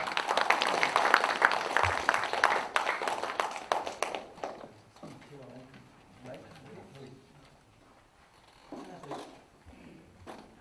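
An audience applauds at a poetry book concert for a collection titled Hongeo, with dense clapping in the opening seconds that fades away, followed by quieter talk and scattered sounds.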